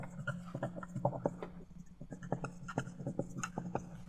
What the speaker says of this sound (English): Let's write this down.